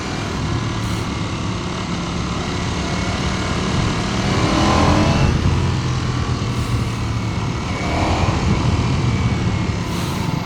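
A 2026 Ducati Panigale V4S motorcycle engine runs hot at a traffic light, with a steady loud idle and revving rumble that swells at about five and eight seconds and continues throughout.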